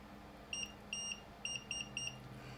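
A continuity tester beeps on a soldered joint inside a circa 1950-53 Mullard MAS 1001 radio, five short high electronic tones in an uneven sequence over a faint hum.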